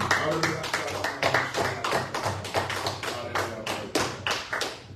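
A church congregation claps together in a steady, loud, rhythmic beat, sharp regular claps repeating roughly twice a second with a faint low hum underneath.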